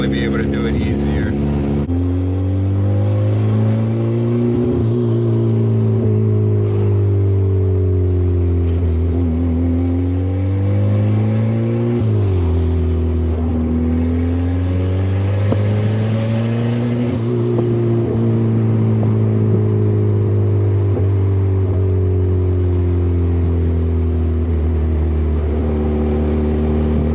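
A hatchback's engine drones loudly and steadily at high revs with a Crackle/Pop exhaust tune, rising and falling with the throttle, while faint pops and crackles break through the exhaust note.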